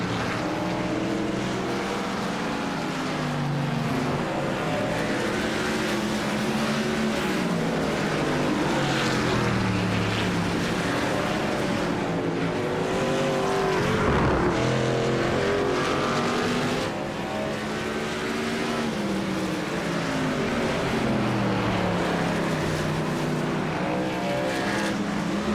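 Race trucks in a contender series roar around a track in a steady, dense engine drone, with multiple engines overlapping, pitch rising and falling as they pass, loud and continuous throughout with no talk.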